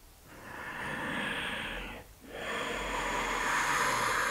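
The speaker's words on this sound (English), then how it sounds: "Working into the breath, inhales and exhales." Steady breathing during a deep yoga stretch: a long airy exhale, a brief pause near the midpoint, then another drawn-out breath, close and fairly soft with no talking.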